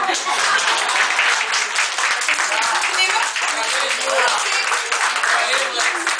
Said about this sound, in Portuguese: bata palmas